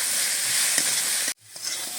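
Boiled chickpeas and potatoes frying in a pan with mild red chilli powder for a Bengali curry make a loud, steady sizzle. It cuts out abruptly for a moment, then returns with light stirring.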